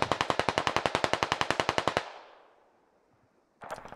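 Rapid automatic gunfire in the video game Squad during a forest operation: a loud, close burst of about twenty evenly spaced shots that rings out into a fading tail, then a second burst begins.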